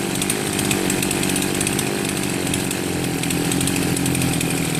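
Chainsaw engine running at high idle, a loud continuous buzzing drone with a steady rough pulse throughout, close by and without talk.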